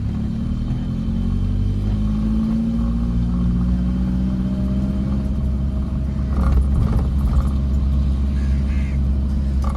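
A car engine on a single-lane road hums loud and close inside the cabin, a steady low drone with the pitch slowly climbing as it picks up speed in second gear, a few rattles near the end.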